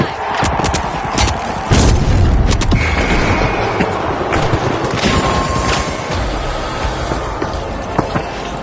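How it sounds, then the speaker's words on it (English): A rocket blast in the video game The Finals lands amid loud, dense combat noise: sharp booms and cracks over a rumbling, chaotic background with brief tonal whines. "Rocket time!"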